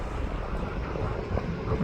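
An airliner passes at the Manchester Runway Visitor Park, a steady broadband engine roar at moderate distance that holds evenly throughout with no talk over it.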